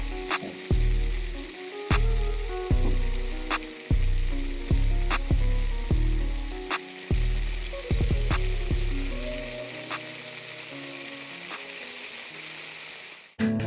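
A steak sears in a hot pan, its constant close sizzle running under loud, thumping rhythmic music with heavy bass beats.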